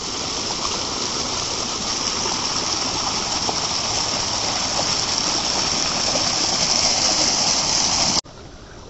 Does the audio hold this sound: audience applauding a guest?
no